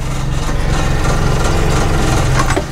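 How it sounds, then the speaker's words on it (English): A Parker C75 sports boat's 750 cc engine runs steadily at a constant low rumble, loud and close throughout with no pauses and no talking. "And then a very easy engine to control in and out of gear."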